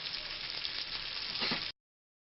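Bourak pastries frying in hot oil give a steady, close sizzle, dense and even from start to end, then stop abruptly.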